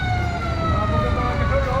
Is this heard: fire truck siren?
yes